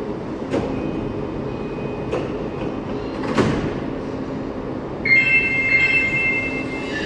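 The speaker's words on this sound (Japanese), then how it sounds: "4番ホームから準急我孫子行きが発車いたします" An Odakyu semi-express train pulls out of the platform at Shimokitazawa station with a few rumbling clunks and squeals. A steady chiming tone joins near the end, all heard at close range on the platform.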